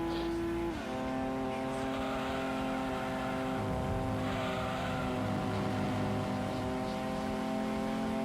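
Race car engines in a racing video game, a BMW among them, making a steady loud droning whine with layered engine tones and a slight shift in pitch, with no talk over it.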